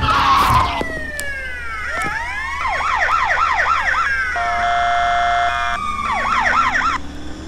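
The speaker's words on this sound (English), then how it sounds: "There are also sirens on the police car." Police car siren in a Roblox driving game, loud and close, cycling through several patterns: a rising wail, rapid yelping sweeps, a steady two-tone blare, then yelping again.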